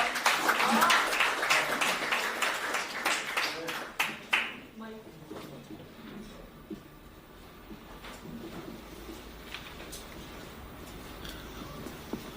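An audience at a Seoul mayoral campaign event claps loudly for several seconds to welcome the Democratic Party candidate, then the clapping dies down into a quieter room with shuffling and faint voices.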